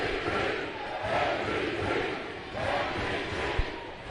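Basketball arena crowd at a TBL game between the Syracuse Stallions and Enid Outlaws, chanting MVP in a loud, rolling, rhythmic swell that fills the space, with an announcer faintly audible beneath.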